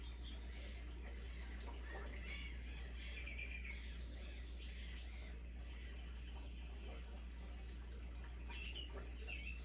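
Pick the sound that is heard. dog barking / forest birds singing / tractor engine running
forest birds singing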